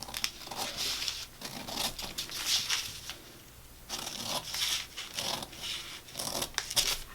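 Scissors cut pattern pieces out of muslin fabric in repeated snipping and crisp rustling strokes, close and steady, with short pauses between cuts and no talking.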